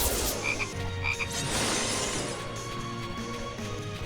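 Croaking frogs in the Youmu Hack and Slash game sound out in a few quick bursts over loud, busy game audio with crashing, shattering effects, close and continuous, with no speech.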